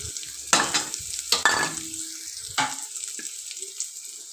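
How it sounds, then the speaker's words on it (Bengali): Chopped onion and ginger go into hot mustard oil in a kadai and are stirred, giving a sizzle with several sharp bursts of frying and scraping over a quieter, steady hiss. "এবার কড়ায় সর্ষের তেল গরম করে নিয়ে তাতে দিতে হবে পেঁয়াজ কুচি, আদা কুচি,"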